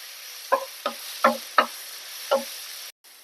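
Five spaced scrapes and knocks of a spoon stirring crushed cloves and spices in a cooking pan for paneer mutter masala, close and fairly soft, with a quiet background hum and no talk.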